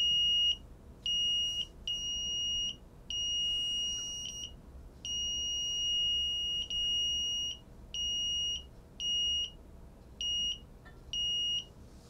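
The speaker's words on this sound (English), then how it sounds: "When I bring my hand, you can see the buzzer is running" Piezo buzzer triggered by an infrared obstacle avoidance sensor in a small electronics project, beeping in a string of irregular electronic tones of varying length, fairly loud and close, with no talking.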